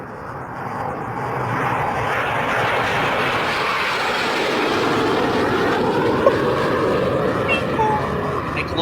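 A jet aircraft flying, heard as a loud, continuous roaring rush that swells and shifts in pitch as it passes, with no break across the whole stretch.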